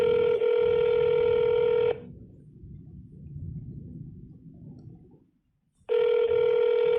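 A telephone dial tone rings steadily and loudly for about two seconds, gives way to a low murmur and near silence, then the tone returns at the end, heard while calling a family court.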